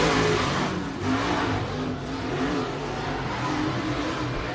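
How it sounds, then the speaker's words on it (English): Race cars roar under green-flag racing at Pike County Speedway, a dense, steady wash of engine noise from several cars at once, heard from a distance with small surges and dips. "We're back green flag racing."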